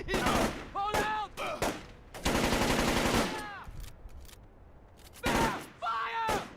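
Rapid bursts of automatic gunfire and single shots in the stealth video game Splinter Cell: Chaos Theory, loud and close, several volleys separated by brief gaps, mixed with game character voices shouting.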